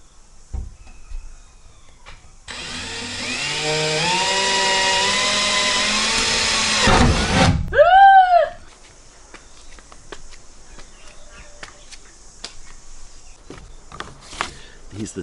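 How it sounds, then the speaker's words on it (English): A power drill boring a hole into the body of a 2021 VW Crafter van for a roof fan, whining steadily for several seconds before cutting off, followed by a short squeal and quieter handling noises. "I've got the drill with me, so I'm just going to put the hole through there"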